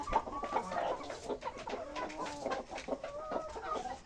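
Backyard chickens kept and free-ranged on a small farm cluck continuously at close range, several birds overlapping in busy, irregular bursts with no talk.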